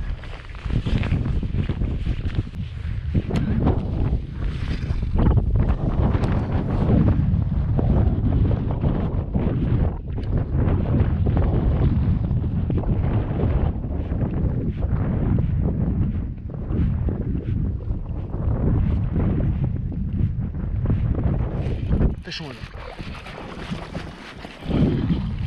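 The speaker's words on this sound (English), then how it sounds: "I had a feeling it wouldn't be too long until the wind started." Strong wind gusts buffet the microphone outdoors during trout fishing in Wyoming, a loud continuous roaring rumble that swells and dips for the whole stretch, with no talking.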